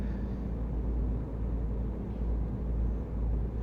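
Simulated truck engine from Euro Truck Simulator 2, a steady low drone that continues unbroken and fairly loud throughout, with no talking over it.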